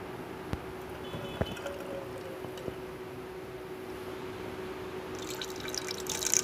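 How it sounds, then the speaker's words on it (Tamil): Ground grated coconut is strained through a filter to make coconut milk, with soft, faint drips and a light trickle over a steady low hum, plus a few sharp clicks. "நம்ம துருவிய தேங்காயை நல்லா அரைச்சி வடிகட்டி எடுத்துக்கலாம்."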